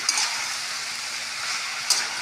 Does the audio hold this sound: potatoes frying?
yes